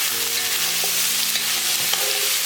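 Baby corn and other vegetables stir-frying in a pan for vegetable fried rice give off a steady loud sizzling hiss, with a faint low hum and a couple of soft stirring taps.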